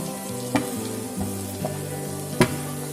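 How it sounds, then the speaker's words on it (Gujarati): Gram flour (besan) roasts in hot ghee over a medium flame, a constant close sizzle broken by a few sharp scrapes and clinks of stirring, with no talk. "આ ચણાના લોટને આપણે એકદમ મીડિયમ ગેસ પર શેકીને તૈયાર કરવાનો છે"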